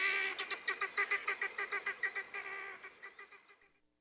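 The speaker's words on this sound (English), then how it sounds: "Helmeted guinea fowl are easily domesticated, but they'll always remain flighty, squawky birds in a panic." Helmeted guinea fowl squawk in a rapid, rhythmic run of about fifteen harsh, honking calls over roughly three and a half seconds, loud and close, with no voices.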